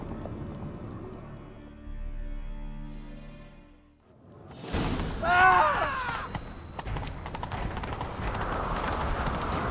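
Horse hooves clatter in a fast galloping rhythm in The Witcher 3: Wild Hunt, with music fading out before the hoofbeats and action noise rise in.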